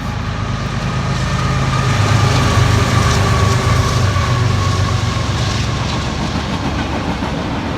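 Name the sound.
train passing by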